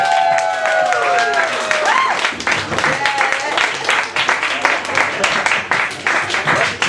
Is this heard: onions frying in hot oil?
no